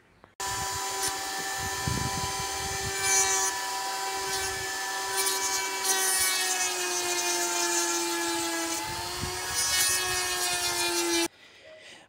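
A Dremel rotary tool fitted with a diamond bit engraves lettering into fairly soft wood, a steady high-pitched whine that holds for about eleven seconds close up, its pitch dipping slightly as the bit bites, before cutting off abruptly.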